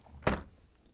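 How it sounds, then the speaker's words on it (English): A refrigerator door on an LG/Kenmore unit swings open with a single soft thunk, close by, then fades into quiet room tone. "To get to the part, we need to open the left side door."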